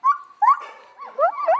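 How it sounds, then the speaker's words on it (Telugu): A black dog gives a few short, high yips and whimpering barks, close and clear, with quiet gaps between them. "అవి అందులో బ్లాక్ డాగ్ కరుస్తున్నది తెలుసా?"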